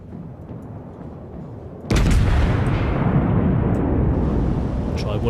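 Battleship naval guns firing in a video game about the warship Texas: a steady low rumble is broken by one sudden, loud, heavy boom that leaves a sustained roaring wash afterward.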